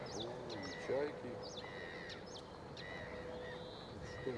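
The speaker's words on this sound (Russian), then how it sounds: "О, и чайки." Seagulls calling outdoors near a garden, several faint distant cries and squeals scattered across the stretch over a soft background hush.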